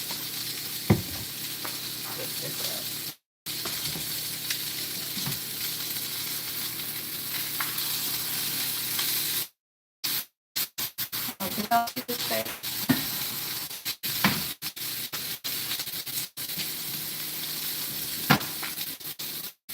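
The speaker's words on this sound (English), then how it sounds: "I'm going to check on our steak because we want this to be nice and want a nice sear" Steak sears in a hot pan with a steady, close sizzle and frying hiss throughout, broken by a few sharp gaps and bursts of clatter as it is moved or stirred.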